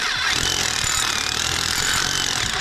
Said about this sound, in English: Here's the drill through.